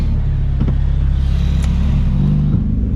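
A drift car's engine roars loud and close during a tandem run, a dense, steady rumbling growl that holds for a few seconds with slight surges in revs.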